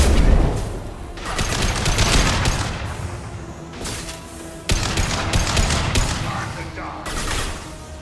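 Sustained gunfire from a Mass Effect 2 firefight: dense, loud bursts that roll on continuously, with short gaps and a sharp new volley partway through, as combat chatter from voices mixes in.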